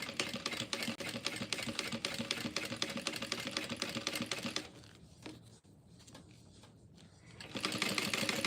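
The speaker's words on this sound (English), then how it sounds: "now let's finish doing our basting around here since we put our female snap on" A sewing machine bastes the seams of a shoulder bag in rapid, close stitching bursts. The stitching pauses briefly partway through, then starts up again loudly.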